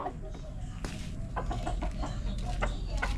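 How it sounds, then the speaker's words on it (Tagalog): Chickens in a yard cluck in short, scattered bursts, fairly quiet against a low steady background hum, with a few clucks overlapping. "So napatuka na pala manok."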